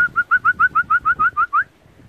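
A racing pigeon arriving home after a 180 km race from Pagėgiai gives a quick run of about ten short, evenly spaced, slightly rising calls, close and clear, then stops, leaving quiet background.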